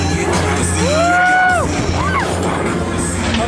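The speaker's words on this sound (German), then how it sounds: "Schreien." Riders scream loudly and whoop on the Der Burner fairground ride at a funfair in Lüdenscheid, several rising shrieks over the steady rumble and roar of the ride machinery.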